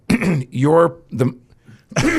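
Someone clears their throat with rough, guttural rasps mixed in with speech-like vocal sounds, close to the microphone.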